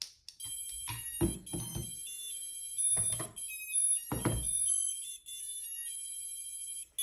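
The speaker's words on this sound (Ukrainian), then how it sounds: "Дрон пищить через те, що не підключена апаратура, він видає помилку" An FPV drone beeps an error signal because no radio controller is connected: steady high-pitched electronic beeping tones repeating in a pattern, with a few dull handling thumps in between; close and fairly quiet.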